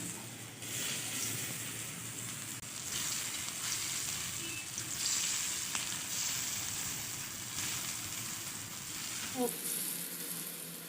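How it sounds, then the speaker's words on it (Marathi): Coriander vadi pieces shallow-frying in hot oil on an iron tava, giving a steady, close, moderately loud sizzle that runs throughout with slight rises and small pops near the end. "इथे मी तव्यात तेल तापायला ठेवले लोखंडी तव्यामध्ये आपण अशी एक एक करून तळून घेऊया"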